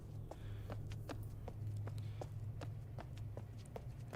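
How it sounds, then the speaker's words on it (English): Footsteps in the Obduction VR puzzle game, a steady run of soft, evenly spaced steps heard faintly over a constant low hum. "oh no wait, I hear footsteps"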